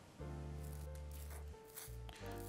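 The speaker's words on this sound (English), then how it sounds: "First off, we're going to try this pencil sharpener." A pencil sharpener grinds a blunt pencil with a steady, close buzzing whir that stops briefly and then resumes.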